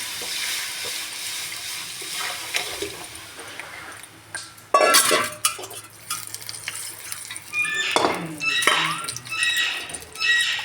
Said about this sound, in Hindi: अब इसे लगातार चलाते रहना, नहीं तो अगर हम नहीं चलाएंगे ना इसको